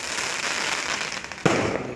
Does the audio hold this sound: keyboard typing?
no